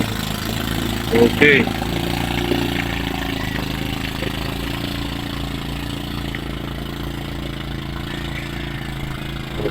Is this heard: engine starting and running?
yes